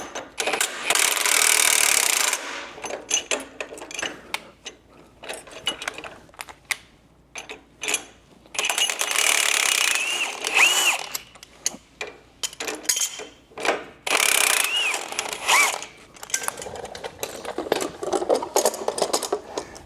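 A QA1 spring compression tool is loosened in stretches of rapid ratcheting clicks and metallic working noise, close and loud, broken by short pauses between bursts.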